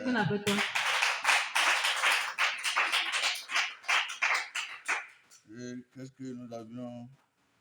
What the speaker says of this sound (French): Applaudis pour le Seigneur.